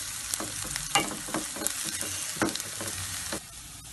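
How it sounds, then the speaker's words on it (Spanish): Chopped bell pepper sautéing in a pan for sofrito, with a steady sizzle broken by repeated scraping stirs of a utensil, close and clear with no voices. "Ok, ya está sofrito esto un poco"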